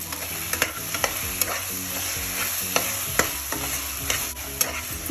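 Vegetables for a vegetable biryani sautéing in a pan, with a steady loud sizzle and repeated sharp scrapes of a spoon stirring against the metal, no voices.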